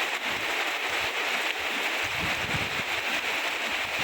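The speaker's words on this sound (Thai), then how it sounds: "ฝนตกตอนกลางวันนะคะ" Daytime rain falls steadily on surfaces outdoors in a Thai rural setting, a continuous hiss of dense drops with faint low patters, even and unbroken throughout.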